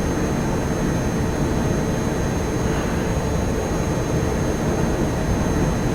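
A T-1 Hawk jet trainer in the flight game DCS World glides with flaps up, heavily loaded, producing a loud, steady, unbroken jet roar with no voices over it.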